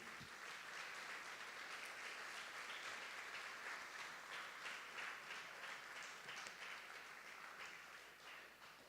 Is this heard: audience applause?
yes